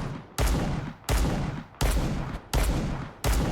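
Gunfire from the mobile shooter Bullet Echo: five loud, sharp blasts at a regular pace, each roughly 0.7 seconds apart and each trailing into a sustained burst of noise.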